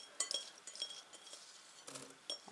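Green beans go into a saucepan with a few faint, light metallic clinks and taps scattered through a quiet kitchen.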